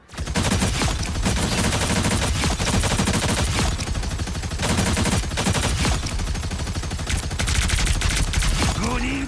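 A video game turret firing continuously and loudly, dense rapid shots in sustained bursts with only short pauses, dominating the mix.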